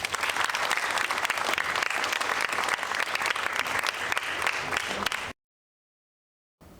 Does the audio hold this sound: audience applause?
yes